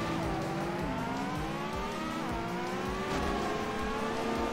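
Racing car engine from the video game Super Woden GP, a steady loud whine rising and falling in pitch through gear shifts, constant and close for the whole stretch, with no talk over it.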